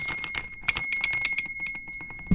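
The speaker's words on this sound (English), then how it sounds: "as well as the bell, which actually rings" A small toy bell on a Thomas and Friends motorized train set rings rapidly in a quick series of bright, thin metallic dings, close and fairly light, with a soft knock at the end.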